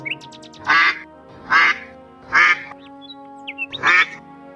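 A cartoon duck quacks four times in slow, evenly spaced bursts, loud and close, with faint chirps and a low steady tone behind it.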